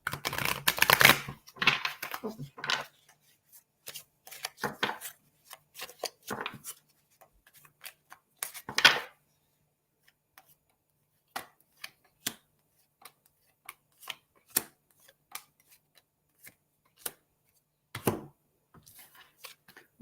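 Tarot and Romance Angels oracle cards are shuffled and drawn by hand, giving close, crisp clicks and flicks in an irregular run, dense at first and then sparser with quiet gaps.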